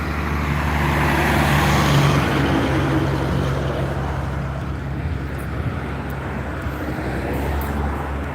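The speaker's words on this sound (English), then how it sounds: "Go log truck, guys. That's a common sight around here." A log truck passes close by on a rural road one morning, a loud broadband engine and tyre roar peaking around two seconds in and then slowly fading as it moves away.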